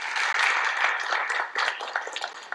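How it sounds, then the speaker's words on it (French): Audience applause at the Réseau Entreprendre Guyane 2021 celebration evening in French Guiana, greeting a presented company team: a dense, steady wash of many hands clapping, with sharp individual claps standing out, sustained throughout and fairly close. "merci, on peut les applaudir"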